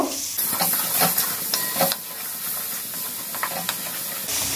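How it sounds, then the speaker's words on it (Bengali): A salted masala spice mix being stirred in a hot pan, with soft sizzling and hissing under a few scraping strokes of the spoon spaced through the clip, close and fairly quiet. "নুনটা আন্দাজ মতো দিয়ে মশলাটাকে একটু নেড়ে চেড়ে নেব"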